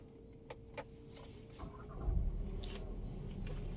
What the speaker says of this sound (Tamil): இப்போ வண்டி ஸ்டார்ட் ஆகிருச்சு.